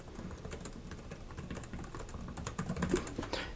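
Steady, quiet clicking of keys on a Lenovo Legion Pro 5 Gen 10 gaming laptop keyboard, a close, continuous patter of typing with no talk.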